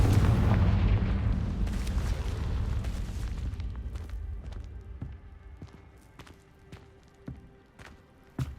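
The Confringo fire spell in Hogwarts Legacy bursts with a loud, rumbling blast that slowly decays, followed by scattered sharp cracks and thuds as debris settles.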